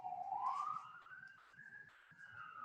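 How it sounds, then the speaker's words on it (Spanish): An ambulance siren passes outside, a faint wailing tone that rises and then holds and wavers in pitch for a few seconds, heard from a distance over a quiet room. "Perdón, hay aquí una ambulancia."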